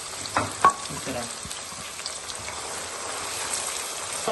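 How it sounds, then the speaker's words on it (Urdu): Onions frying in hot oil in a karahi for chicken karahi, a steady soft sizzle with a few sharper crackles near the start, close and moderately quiet, no voices. "یہاں پر دوستوں یہ دیکھیں ہمارا پیاز فرائی ہو رہا ہے"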